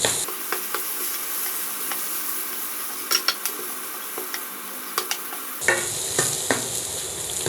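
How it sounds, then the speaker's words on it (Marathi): Coriander paste being sautéed in a pan for a spicy sprouted moth bean curry, a continuous soft sizzle with scattered sharp spoon taps and scrapes, louder and brighter frying toward the end, no talking. "कोथिंबिरीची पेस्ट घातल्यानंतर एक मिनिटभर आपण परतून घ्यायचं आहे"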